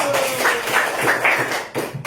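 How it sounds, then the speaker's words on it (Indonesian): Pupils in a classroom clap for a group of classmates, a brief round of close, uneven hand claps from a small group, tapering off quickly. "Sebelumnya tepuk tangan dulu untuk kelompok 1."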